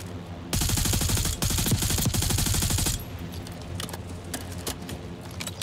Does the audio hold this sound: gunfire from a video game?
yes